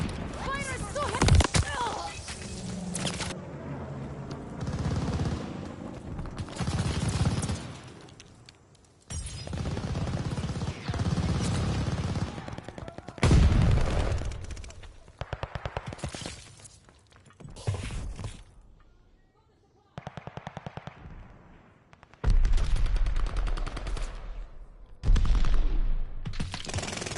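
Heavy gunfire in a video game battle, with repeated bursts of automatic fire and sharp shots, loud and close, arriving in separate clusters with short gaps between them.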